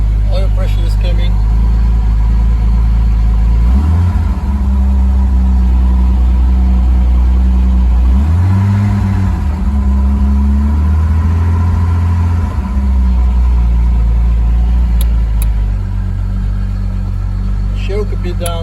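1961 Jaguar E-Type Series 1 engine idling after a cold start with the choke on, a loud, close, steady low rumble that swells in a few brief blips of revs.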